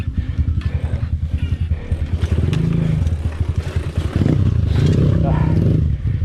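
Honda and MMC motorcycles ride over rough, uneven ground, and one low-clearance bike scrapes its underside. Close engines drone and rev in rising and falling surges, mixed with clattering and scraping.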